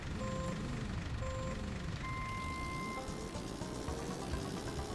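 A racing game on a Super Nintendo plays a steady synthesized engine drone with repeating electronic beep tones, the engine pitch shifting as the car drives.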